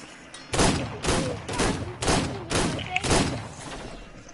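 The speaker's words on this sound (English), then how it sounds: "Who's shooting in my base? Stop shooting in my base." Gunfire in the Call of Duty Black Ops video game: about six loud, evenly spaced booming shots, roughly half a second apart, with faint in-game voice chatter underneath.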